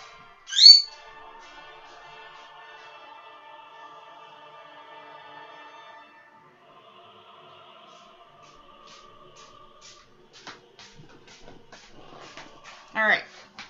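A pet conure parrot lets out a sharp squawk near the start and another shrill call at the end, with a steady background tone and faint household noise in between.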